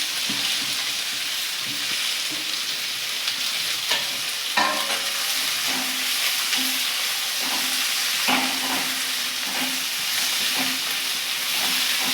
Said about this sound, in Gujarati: લીલી ડુંગળી આપણે થોડી સતળાઈ જાય